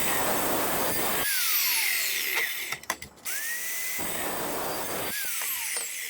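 A high-RPM drill runs steadily near a die rack build for a die cart, a loud shrill whine that briefly cuts out and sputters in the middle before spinning back up, with no one talking.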